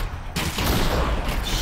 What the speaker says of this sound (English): I can shoot shotguns too.